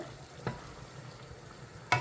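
Chicken pieces for curry sizzling steadily in a pan in their own released juices, no water added, with a couple of sharp scrapes as a utensil stirs them, close and moderately loud.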